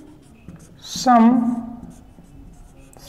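Writing on a board during a maths class on co-prime numbers, a scratchy stroke sounding under a teacher's brief spoken word.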